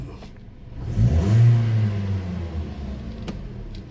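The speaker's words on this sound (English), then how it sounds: "So now what I'll do is I'll start the vehicle and let it run. Let me rev." 2012 Hyundai Elantra engine, with an intake manifold runner fault, revved once at idle: the engine swells to a loud rev around a second in, then eases back to a steady idle, heard up close with no talking.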